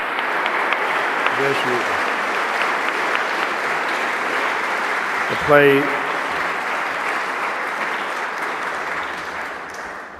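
Sustained applause from the audience at the NSW Premier's Literary Awards, a dense, steady roar of clapping with a few cheers while a presenter's voice speaks over it.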